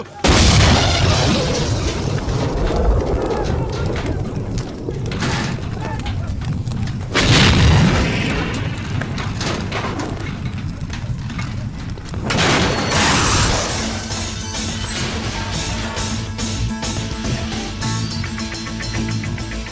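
Bomb blasts in a Telugu action movie scene with Pawan Kalyan, heavy booming bursts recurring through dense loud soundtrack noise, with voices and music mixed in throughout.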